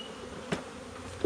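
Honeybees hum around an open beehive whose medium box is packed with eight frames of brood, the buzzing steady and fairly soft throughout, broken by a brief louder bump midway and another near the end.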